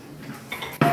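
A spoon scrapes and clinks against a pot while flour for a strawberry cake is measured out, a few close clicks ending in a louder knock.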